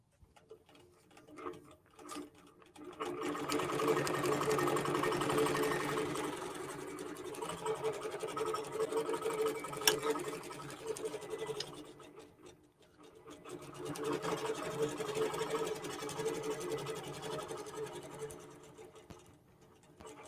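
A QBOT quilting robot drives a sewing machine stitching a quilt, giving a steady rapid mechanical whirring and ticking that rises, dips briefly, then resumes, with faint talk in places.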